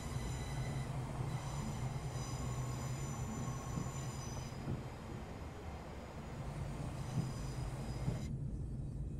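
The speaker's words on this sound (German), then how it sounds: "Das ist schon ein schöner Zug." A Class 800 train in Train Simulator 2022, heard from outside, gives a steady loud rolling rumble with wheel squeal and a high whine, continuous before cutting off abruptly near the end.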